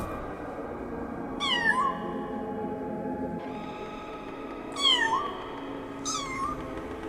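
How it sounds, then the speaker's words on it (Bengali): A kitten meows three times over a low, steady background drone, used as a sound effect in a Bengali ghost story; the cries are plaintive and fairly close. "এই যে বিড়াল ছানার কান্নার শব্দ"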